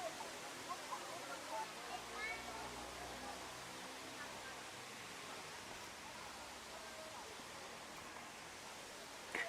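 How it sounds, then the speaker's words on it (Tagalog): Tumalog Falls in Oslob, Cebu, pours as a steady broadband hiss of falling water that fills the scene evenly throughout. "Ito yung falls, guys."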